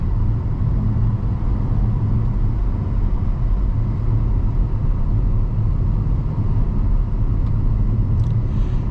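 A 2025 Chevy Trailblazer RS, a turbocharged car, climbs hills with a steady low engine drone and road rumble heard from inside the cabin, unbroken for the whole stretch with no talk.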